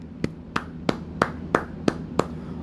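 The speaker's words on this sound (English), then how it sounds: "golf clap for you" Slow, sparse golf clap: seven single hand claps evenly spaced about a third of a second apart, crisp and close, with no talk over them.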